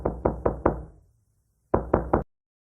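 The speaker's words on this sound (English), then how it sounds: "Oh, looks like someone is at the door" Knocking on a door: a quick series of four firm, loud raps, a short pause, then three more, close and alone with no talk.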